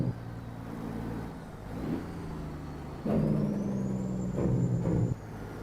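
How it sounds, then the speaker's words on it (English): A heavy truck in a trucking simulator game drones steadily with turbo whine, then surges in louder bursts of engine braking, alone with no talk. "That freaking turbo and that Jake brake, man."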